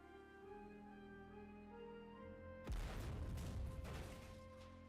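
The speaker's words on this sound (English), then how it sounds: "Damn, that explosion is loud." An explosion in the 3D metroidvania game Poppet Quest bursts in partway through, a sudden loud boom that cuts across a steady tonal music bed and leaves a dense rumbling roar.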